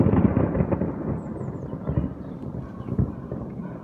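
Thunder rumbles from a moderate summer thunderstorm at Amboise, France, following a lightning flash: a loud, low rolling roar with several deeper booming swells, fading gradually with wind noise.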